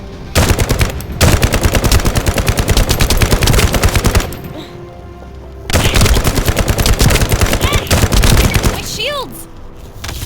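Sustained automatic weapon fire in the shooter game The First Descendant, loud and dense in two long bursts separated by a short pause, with game effects sounding between them.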